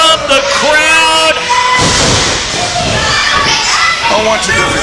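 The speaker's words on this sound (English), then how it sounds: "Unwanted collecting boos from the crowd." Loud, dense crowd noise at a professional wrestling show as the villainous tag team the Unwanted, Christian Skye and Nasty Nash, draw boos: a sustained wall of jeering voices with shouts and whoops, steady throughout with no clear speech.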